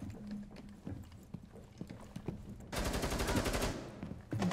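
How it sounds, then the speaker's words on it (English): Scattered gunshots crack at intervals in the video game Rainbow Six Siege, then a rapid burst of automatic fire rattles for about a second, with isolated shots following. "I do hear some gunfire."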